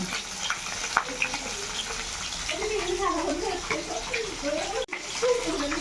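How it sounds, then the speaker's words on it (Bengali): Pieces of katla fish fry in oil with a continuous close sizzle, while a voice talks over it and a brief clatter comes near the end. "মাছগুলোকে ভেজে নিচ্ছি লাল লাল করে সুন্দর সুন্দর ভাজা হচ্ছে একদম"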